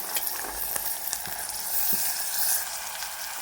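Cut cluster bean pieces hiss and sizzle steadily in a hot pan, a dense, close frying sound with a few soft stirring knocks, no voices.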